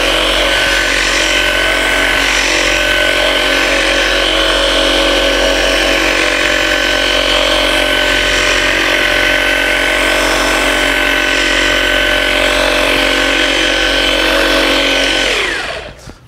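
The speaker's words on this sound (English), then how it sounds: "Okay, that's just a few seconds of polishing." A car polisher works out swirl marks on automotive paint with a loud, steady motor drone held at an even pitch for about fifteen seconds before it winds down and cuts off.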